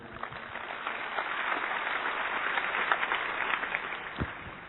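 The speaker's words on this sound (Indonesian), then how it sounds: "Tepuk tangan." Applause from a congregation during a church service, a fairly faint, even patter of many hands clapping that holds steady throughout, slightly muffled and distant.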